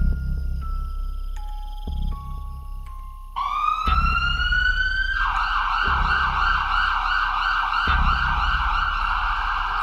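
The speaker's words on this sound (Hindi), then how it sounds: "तुम दोनों एम्बुलेंस लेकर चलो, मैं पीछे लटक जाता हूँ।" An animated ambulance's siren starts with a few electronic beeps, then rises into a loud, continuous wailing siren that pulses steadily and stays close and prominent.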